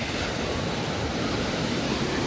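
Steady broadband rush of warm sea surf washing onto a beach in Adler, continuous and fairly loud with a windy hiss, no voices.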